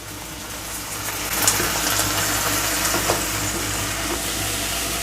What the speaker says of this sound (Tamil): அடுத்தது நம்ம கொஞ்சமாக தண்ணி சேர்த்துக்கலாம்.